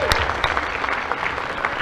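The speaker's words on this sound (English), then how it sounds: "Can we give them a round of applause" A concert audience at a school fall band concert applauds, a dense, steady patter of many hands clapping at moderate loudness throughout.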